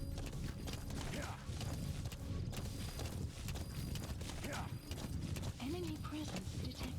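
In Metal Gear Solid V: The Phantom Pain, a horse gallops with rhythmic hoofbeats, close and steady. A brief whinny sounds near the end over a low game background.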